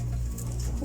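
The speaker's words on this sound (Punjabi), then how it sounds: "ਇਹ ਵੈਸ਼ੀ ਕਬੂਤਰ ਹੈ" A Vaishi pigeon coos in a low, steady, humming murmur, close and continuous for under a second.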